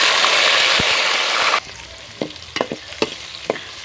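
Onions frying in a pan for velakeerai kuzhambu: a loud hiss that cuts off abruptly, followed by several sharp scraping clicks of a spatula against the pan.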